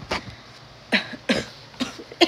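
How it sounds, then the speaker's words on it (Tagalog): Five short, dry coughs in a loose series, close to the listener, with quiet gaps between each. "Ubo."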